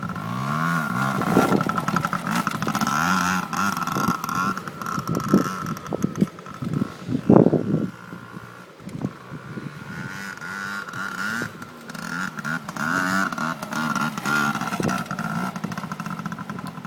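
A two-stroke 230 dirt bike engine revs and idles continuously at close range, rising and falling in pitch with repeated throttle blips and wind buffeting the microphone.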